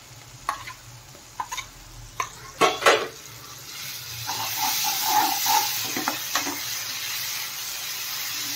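Ground spice paste and red chili powder fry in hot oil for a drumstick curry. A few clinks of a spoon against the pan come first, then a steady, close sizzle builds with scraping stirs, with no talking.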